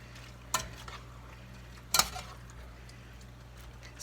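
Pasta being stirred into tomatoes in a pan for an Italian chicken dish: two sharp scrapes and clatters against a quiet, low kitchen hum, with faint soft stirring between them.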